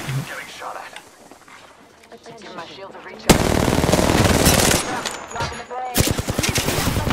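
Automatic weapon fire in the Apex Legends video game, quiet at first and then loud sustained bursts of rapid shots, with players talking over it.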